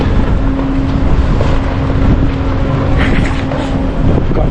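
Cold wind blowing across U-Do Island off Jeju, a steady broadband roar buffeting the microphone throughout, with a faint low engine-like hum underneath and no talking.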